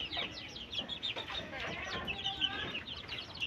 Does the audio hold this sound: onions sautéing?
no